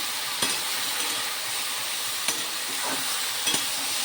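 Taro stolons stir-fried dry in a pan with no water, a steady close sizzle with a few sharp scraping stirs of the spatula at irregular moments.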